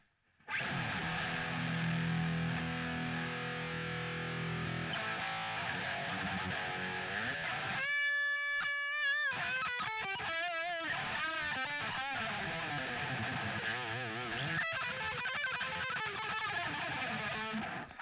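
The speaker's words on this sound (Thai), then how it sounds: "ลองเป็นเสียงแตกนะครับเสียงแตก" Distorted electric guitar played with a handmade wooden pick, playing steadily, with thick crunchy chords, a brief pause with ringing harmonic tones, then gritty bending notes continuing throughout.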